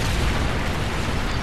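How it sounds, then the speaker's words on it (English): An explosive decoy goes off in Call of Duty: Modern Warfare 3, a brief loud broadband blast with heavy low rumble lasting about a second and a half. "Explosive decoy on the way."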